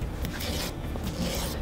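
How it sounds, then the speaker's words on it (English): Steady, gritty rasping of a sanding stick rubbed back and forth over the high points of a textured surface, close up and continuous, with no voices. "basically just sand off the high points."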